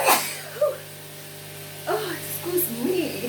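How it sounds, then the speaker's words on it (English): A single sharp sneeze set off by hot paprika in a small home kitchen while salmon cooks in a frying pan, loud and close at the start, followed by a quiet room with faint talk and a low mains hum. "I think I'm gonna sneeze."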